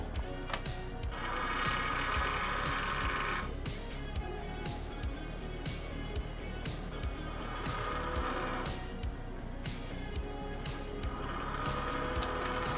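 Continuous mechanical whirring of Gigabyte Radeon RX 480 G1 Gaming graphics card fans, one faulty, with a recurring buzzy rattle that rises and fades at intervals, fairly quiet and close.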